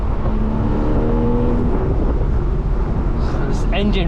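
A 2013 Porsche 911 Carrera S Cabriolet engine pulls hard under acceleration with a steady, loud drone that rises in pitch, while someone talks over it throughout and a brief higher whine appears near the end.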